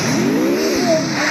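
A Ferrari engine revs nearby, a loud rising-and-falling mechanical drone with a sharp high whine as the revs climb.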